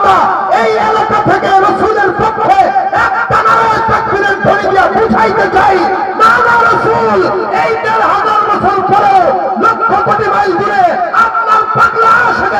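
A large religious gathering's crowd shouting the Nara-e-Takbir slogan, many voices raised together in loud repeated chant-like bursts that fill the space.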